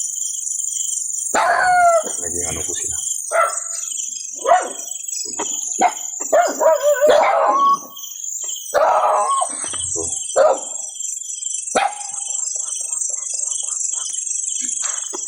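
Dogs bark in sharp, repeated bursts over a constant high chirping of insects, with a person speaking briefly between barks.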